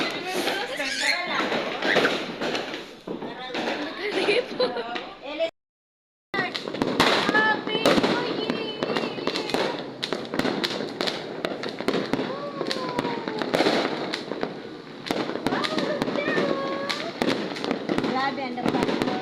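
Dense New Year fireworks and firecrackers burst continuously near and far, a rapid crackling barrage with sharp bangs, whistles and a brief dropout, while people shout and talk excitedly underneath.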